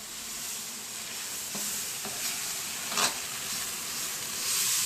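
Pork with mushrooms and olives fries in a pan with a steady moderate sizzle, and occasional stirring scrapes and clinks come through nearby.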